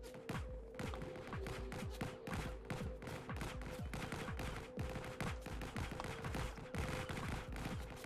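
Faint, rapid gunfire from enemy characters in a video game, an unbroken rattle of quick automatic shots held at low volume throughout.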